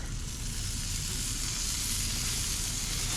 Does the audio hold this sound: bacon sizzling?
yes